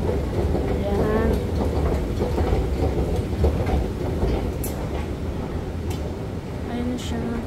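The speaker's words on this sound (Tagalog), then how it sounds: "Ayan na yung train." Metro train pulling into Msheireb station in Doha, a close rolling rumble with rhythmic wheel clatter and squeals, with people talking over it at times.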